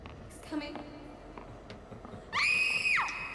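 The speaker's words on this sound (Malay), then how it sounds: "Siapa pula menjerit ni?" A high, piercing scream from the horror video game Outlast 2 rises sharply, holds for about half a second, then breaks off, loud and close. It follows a stretch of quieter game sounds and scattered voices.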